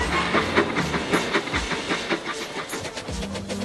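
A cartoon breakdown train runs along the rails with a rhythmic clickety-clack and steady hissing steam, fairly loud and alone for a few seconds.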